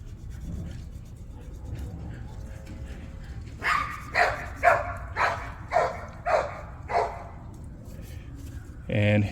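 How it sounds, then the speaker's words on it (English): A nearby dog barks about seven times in a steady series, loud and distinct, after a stretch of low background rumble and faint noise, with a final bark at the end. "come by with a barking dog"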